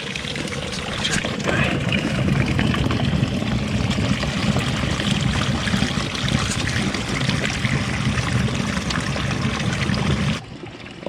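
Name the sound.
water trickling out of rock in canyon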